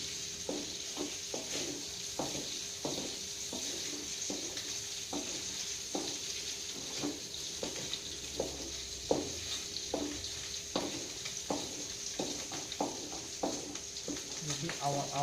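Pork frying in a pan gives a steady sizzle under a faint voice, with regular stirring or turning scrapes repeating about every second and a half.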